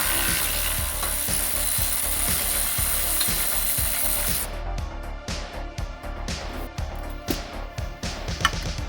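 Impact gun with a 17mm socket rattling out a control arm bushing bolt on a Toyota AE86, heard as a steady close buzz of rapid hammering that gives way to more spaced, choppy bursts.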